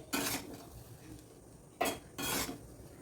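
A spoon scrapes and stirs potato semolina in a pan in three distinct strokes, close and clear against a quiet background.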